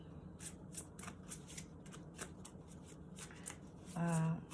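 A deck of mystical shaman oracle cards being shuffled by hand in continuous quick riffles and flutters for several seconds, close but fairly quiet, with a brief voice near the end.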